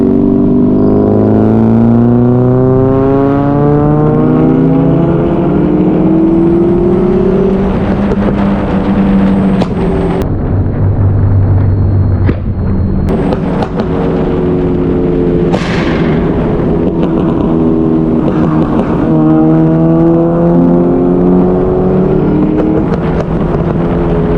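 A car engine revs hard in repeated full-throttle pulls, loud and rising in pitch, broken by sharp pops and bangs as it shoots flames on the lift-off.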